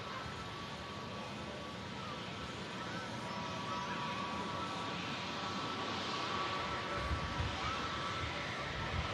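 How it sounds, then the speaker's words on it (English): A Turkish Airlines jet arriving from Istanbul at Manchester Airport, heard from the runway viewing area as a steady, distant roar of engine noise that swells slightly toward the end. "Turkish Airlines in from Istanbul"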